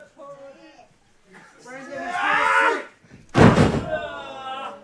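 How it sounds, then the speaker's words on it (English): A wrestler is body slammed onto the ring mat during a live match, one heavy thud landing between stretches of commentary talk. "Body slam there."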